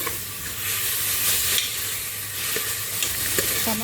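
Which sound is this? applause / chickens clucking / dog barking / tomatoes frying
tomatoes frying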